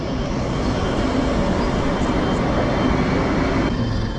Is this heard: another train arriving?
yes